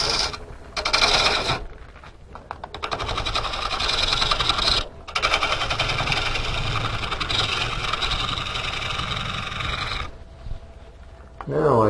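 A lathe gouge cuts an out-of-round green wood bowl blank, giving a continuous rasping, scraping drone that catches intermittently, close and loud, broken by brief pauses.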